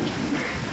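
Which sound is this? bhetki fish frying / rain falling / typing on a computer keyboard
rain falling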